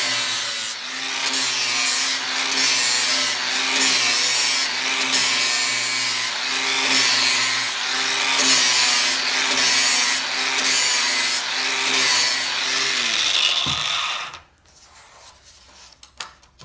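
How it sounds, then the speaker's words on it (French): An angle grinder held at about 45 degrees chamfers the edge of a PVC pipe, giving a loud continuous rasping grind with rhythmic pulses as it circles the pipe, then cuts off into quiet near the end. "je mets un peu ma meule comme ça, un peu à 45 degrés, tu vois. Et hop, après, je viens comme ça faire le tour du PVC."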